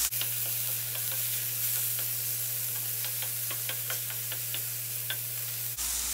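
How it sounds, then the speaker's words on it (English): Cabbage cooking in coconut oil in a hot pan on low heat, giving a steady close sizzle with scattered pops and crackles and a constant low hum underneath, no talking. "We're just gonna allow that to cook and become a little bit translucent"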